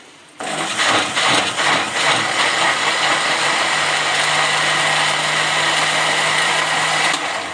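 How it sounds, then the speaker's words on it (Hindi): Mixer grinder blending cooked tomatoes for homemade ketchup, a loud steady motor whir starting abruptly and running continuously for several seconds before cutting off, close and alone. "अब आप इसे 2 मिनट के लिए, 2 मिनट से भी कम बल्कि 1 मिनट के लिए ग्राइंड कर लें"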